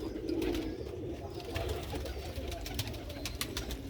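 Sialkot pigeons cooing steadily in a loft, a low continuous murmur of coos with faint chirps above and no talk.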